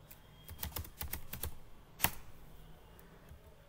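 Fingers typing a test command on a computer keyboard: a quick run of close, crisp key clicks over about a second and a half, then a single louder keystroke, like Enter, followed by quiet.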